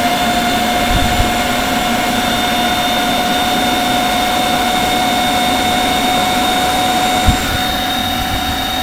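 Outdoor Master Shark 3 rechargeable electric SUP pump inflating a paddle board toward 3 psi, giving a loud, steady motor drone with a constant high whine that runs unbroken throughout, with no talking.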